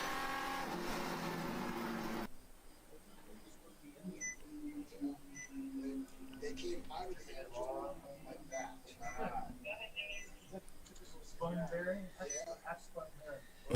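Race cars, including a 1991 Miata and a Honda Insight, pass on track during a ChampCar endurance enduro at Pittsburgh Grand Prix; engine noise rises and fades at moderate distance beneath steady commentary voices.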